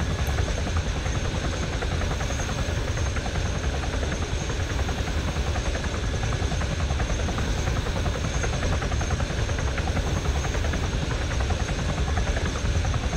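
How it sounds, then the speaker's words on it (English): Helicopter in a video game, its rotor throbbing as a steady, dense drone that holds at an even loudness throughout without talking. "I'm gonna fucking Rambo his helicopter"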